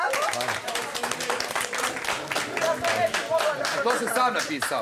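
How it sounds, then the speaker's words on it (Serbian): On the studio set of the reality show Elita, an audience breaks into clapping that rattles on steadily for a few seconds while people talk over it. "Svaka čast. Aplauz."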